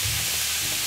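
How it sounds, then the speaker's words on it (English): Frying onions hiss in a pan for a Philly cheesesteak, one brief burst of dense sizzle with a low rumble as they are stirred, no voices. "The onions are ready. Let's give a stir now."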